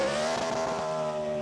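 A NASCAR race car engine at California Speedway roars loudly and steadily during a post-race burnout, a sustained high-revving drone close by with no talk over it.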